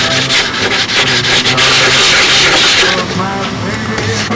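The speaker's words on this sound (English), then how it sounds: "whenever I want to do any sanding, especially the edges" Loud, close rasping of sandpaper rubbed by hand along the edge of a wooden model aircraft part, a continuous scratchy friction with rhythmic strokes.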